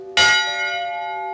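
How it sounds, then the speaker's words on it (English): A memorial bell at Jackson State University, rung during a Sandy Hook remembrance service, gives a single loud strike and then a long, clear, sustained ring with no voices. "the bell ringing at Jackson State is a very sacred occasion."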